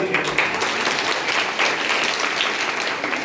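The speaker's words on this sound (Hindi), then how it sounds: "बहुत अच्छा, आप एक बार अपने लिए ताली बजा लीजिए।" A devotional gathering at a Bhagavat Katha discourse applauds itself, a thick, continuous wash of many people clapping together, loud and unbroken with no speech over it.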